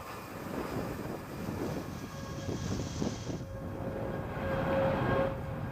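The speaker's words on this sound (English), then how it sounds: "Launch Alliance Vulcan rocket carrying USSF 106 for the United States Space Force" Steady, loud broadband roar of a ULA Vulcan rocket launching with the USSF-106 Space Force mission, a continuous rumbling wash that swells slightly toward the end with a faint tonal whine in the middle.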